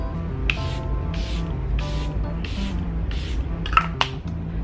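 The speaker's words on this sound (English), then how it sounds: "Just spray my face." A series of short, soft bursts of Charlotte Tilbury setting spray hiss onto a face at a steady rhythm, about six puffs, followed by a couple of small clicks, close to the listener.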